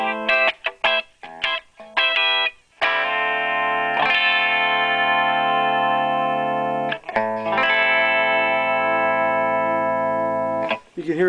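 Electric guitar notes and chords run through an optical compressor pedal ring out with a smooth, swelling sustain, each held note blooming and fading evenly, played alone without talk.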